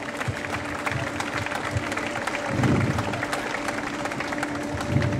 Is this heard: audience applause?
yes